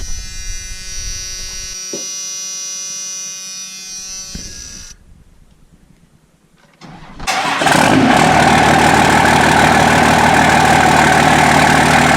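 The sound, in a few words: Cummins diesel truck engine starting up, 8-inch exhaust tip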